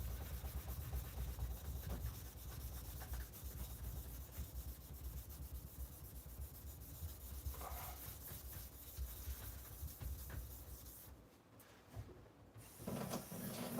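Knife blade rubbed under pressure across a coarse whetstone to remove deep scratches, a close continuous gritty scraping in steady back-and-forth strokes with a brief pause near the end.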